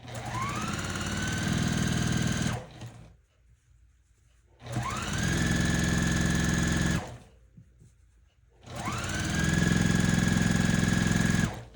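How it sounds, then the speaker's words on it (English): A sewing machine stitches precut layer-cake quilt blocks together in three loud, steady runs of rapid needle hum, separated by short quiet pauses. "I'm going to sit here and stitch my blocks together"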